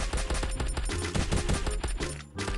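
Rapid submachine gun bursts in a Free Fire match, dense and continuous across the clip, loud and close with sharp repeated cracks and a brief dip near the end.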